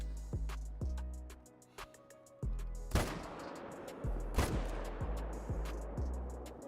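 M1 rifle firing in a whitetail hunting video game, two sharp, loud shots ringing out over a quieter background of rhythmic low thuds.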